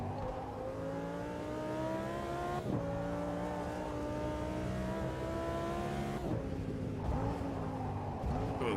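A race car engine roars through a lap in the Automobilista 2 sim racing game, climbing in pitch and then dropping sharply at gear shifts and braking points, loud and continuous with no talk.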